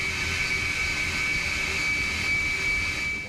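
A military jet engine runs on a test stand, spun up with compressed air through a hose: a steady, loud, close roar with a sustained high-pitched whine held throughout.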